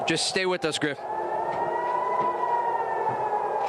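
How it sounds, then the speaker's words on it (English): Someone speaks briefly, then a steady wailing air raid siren drones on in the distance over Tel Aviv, Israel, holding a sustained tone. "Air raid sirens are sounding across Israel's second largest city of Tel Aviv."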